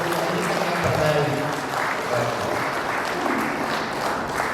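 Audience applause at an Indonesian teachers' talk show, a steady wash of clapping from a crowd, with voices faintly mixed in underneath.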